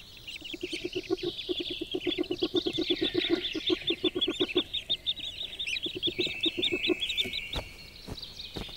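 Mother duck in a Scandinavian forest calling in a rapid series of loud nasal quacks, dozens in quick rhythm, with faint chirps from ducklings behind.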